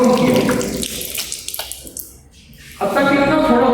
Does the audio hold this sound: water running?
yes